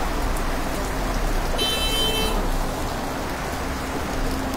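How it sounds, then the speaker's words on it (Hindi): Steady rain falls outdoors at Hazratbal dargah in Srinagar on Eid al-Adha, a constant hiss of drops on surfaces with a brief tonal car horn sounding partway through. "आज ईद उल अजहा के मौके पर बारिश हो रही है।"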